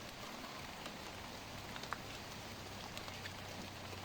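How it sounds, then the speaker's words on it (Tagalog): Rain falling outdoors during a night hunt, a faint steady patter and hiss with scattered soft drops, no voices. "Lumalakas na ulan mga kausap eh."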